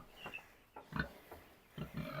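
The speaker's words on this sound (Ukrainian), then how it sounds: "Ось такі вже хрюні в нас повиростали" Farm pigs grunt in a handful of short, close, low bursts spread irregularly over a couple of seconds, with quiet pauses between them.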